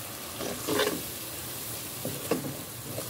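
Ginger garlic paste with salt is stirred in a hot pan, giving a soft continuous sizzle with a few nearby scraping strokes of the spoon, and no one speaking.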